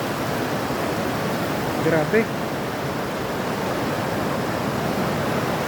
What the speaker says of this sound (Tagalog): Sabay na rin dito sa Bunsuran Falls. Yan, lakas oh.